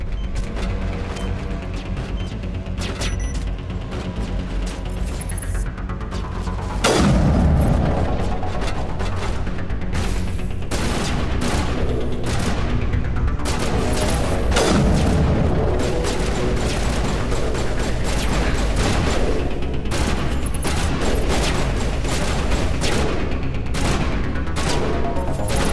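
Dense, loud bursts of gunfire and booming rocket explosions fill a Mass Effect firefight, with continuous rapid shots, mechanical clatter and heavy impacts throughout.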